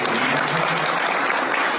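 Dense, sustained clapping from a large crowd at a Hindu religious gathering in honour of the chairman, loud and unbroken for the whole stretch.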